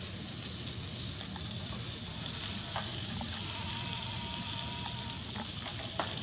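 Shrimp fry in a pan with a steady, moderately quiet sizzle and hiss, a few faint clicks and pops scattered through, and no talking.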